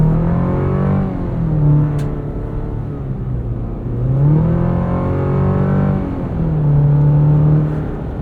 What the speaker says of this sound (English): the engine sounds a bit more throaty, a bit more aggressive